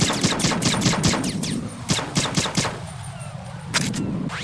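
Rapid suppressed gunfire from the video game Metal Gear Solid 2, a quick string of sharp muffled shots in close succession, loud and near, followed by a few more isolated pops.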